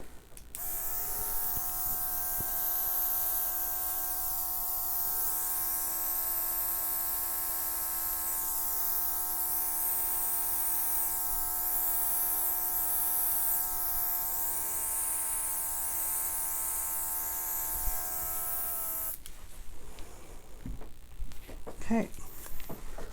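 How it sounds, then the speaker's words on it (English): An airbrush runs with a steady, close electric hum and hiss for nearly twenty seconds while painting butterfly fluid art, then cuts off, leaving faint handling clatter. "Now I'm going to grab my airbrush."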